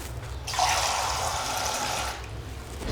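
Water is poured into a pan of simmering mutton masala curry, a close steady splashing stream lasting about a second and a half before stopping, with no speech over it.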